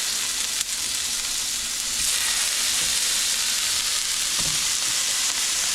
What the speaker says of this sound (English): So now I'm gonna add in the walleye that I just caught.